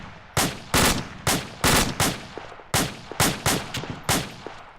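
A team fires on command, sharp loud gunshots cracking out in quick irregular bursts, about a dozen reports each trailing off briefly before the next, with no talk.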